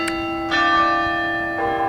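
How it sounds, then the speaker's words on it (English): Church bells ring close by, sustained tolling tones with a fresh strike at the start, another near half a second in and a third toward the end, each blooming over the lingering hum of the last. "We're getting the bells. I love the bells."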